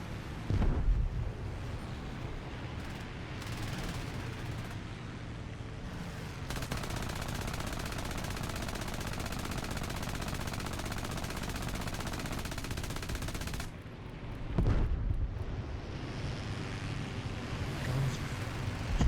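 Sustained machine gun fire in War Thunder, a loud continuous dense rattle running for long stretches with a brief pause and burst near the end.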